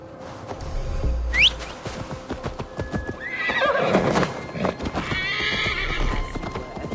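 A video-game horse in Assassin's Creed Valhalla neighs loudly amid clip-clopping hooves, with a sharp whistle-like call early on and steady hoofbeats continuing underneath.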